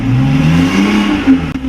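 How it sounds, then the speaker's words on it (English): A BMW i8 hybrid sports car gives a short, steady rev, its engine note holding a low droning hum with a slight rise near the end, close and loud with no talking. "Let's give it a rev."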